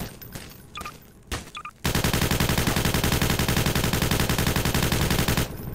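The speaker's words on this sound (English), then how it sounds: "Can you hear all the bullets landing next to you?" Gunfire in the sandbox game Garry's Mod: after a few scattered sharp cracks, a loud, unbroken burst of rapid automatic fire hammers on for about four seconds with bullets striking close by, then cuts off abruptly.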